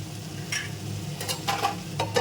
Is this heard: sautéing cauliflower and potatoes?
yes